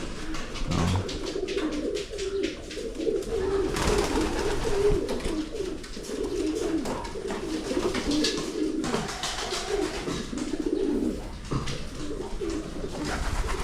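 Pigeons coo steadily and close by, soft throaty calls overlapping in a continuous murmur with some rustling and background noise.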